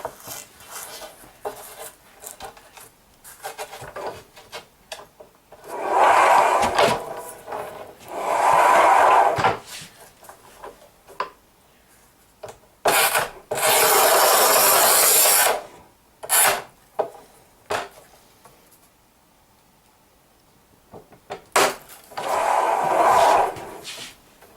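A Haisser 1200 manual tile cutter scores and snaps a thin strip of porcelain stoneware, with loud scraping runs of the scoring wheel, several bursts separated by quieter handling clicks and knocks, close to the microphone.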